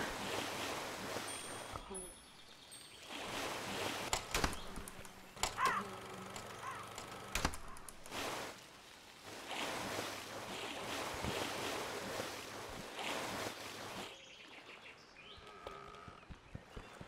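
Continuous washing water and wave noise from the Lakeview Cabin game, fairly loud and steady with surging swells and a few sharp splashy bursts throughout.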